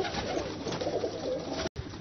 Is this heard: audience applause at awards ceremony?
no